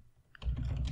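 Keys tapped on a computer keyboard while a keyword is entered into a custom search field, a brief cluster of soft clicks rising out of near silence.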